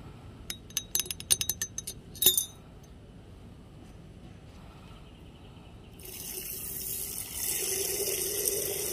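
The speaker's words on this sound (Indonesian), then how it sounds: "Jadi biasanya Mama melarutkan 4 sendok teh antrakol ke dalam air di tempat yang kecil terlebih dahulu." Antracol fungicide powder dissolved in water in a small container: a quick burst of clinking spoon taps against the vessel, then steady running and pouring water that grows louder toward the end, close by with no talk.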